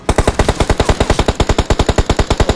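Rapid automatic gunfire in the game PUBG rattles out as a long, loud, evenly spaced burst of sharp shots, close and unbroken for a couple of seconds.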